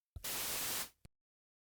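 A burst of harsh, steady white-noise hiss lasting under a second, cutting off abruptly with a brief click at the end.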